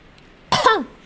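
One short, sharp cough bursts out close by, set off by the smell of a cheap counterfeit lip cream, with a throaty rasp that fades in under a second.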